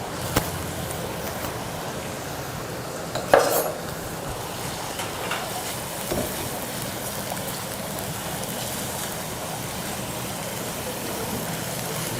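Steady sizzling and crackling of goat meat frying in a hot pan, with a brief clatter of a utensil early on.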